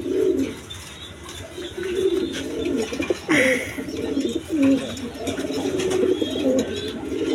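Pigeons coo repeatedly at close range, their low, throaty calls overlapping in a steady series with faint background noise throughout.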